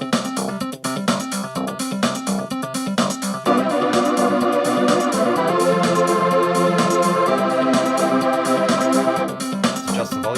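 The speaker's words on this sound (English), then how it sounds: "try a thicker, more pad style sound with a techno beat" A Casio CTK-496 keyboard plays a thick sustained pad sound over a techno beat accompaniment, its drum pattern running alone at first before the held chords swell in and continue steadily.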